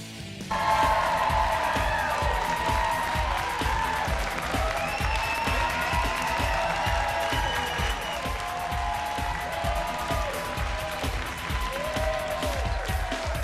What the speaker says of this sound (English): One more round of applause, huh?